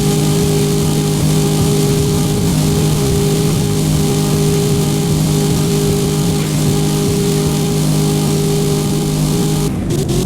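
A car engine in the Roblox game Driving Empire drones loud and steady, a constant harmonic hum that holds unbroken, then cuts off abruptly at the very end.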